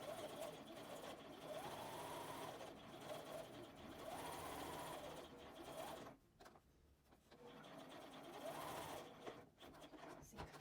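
Sewing machine stitching a tote bag, its motor whirring in steady, loud runs with a brief pause near the middle before stitching resumes; no talking.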